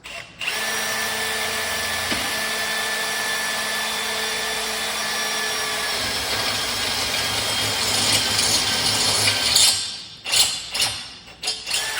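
A power drill with a multi-bit whines steadily for about ten seconds, close and loud, then stops, followed by a few clunks and handling noises.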